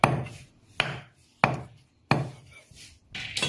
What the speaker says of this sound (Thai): หนังก็หั่นเป็นเม็ดๆนะครับ